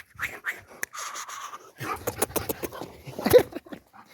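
A pet dog at close range shuffles, pants and scratches around in a few soft, irregular bursts, with brief whimpery sounds and rustling under a quiet background; no clear barks.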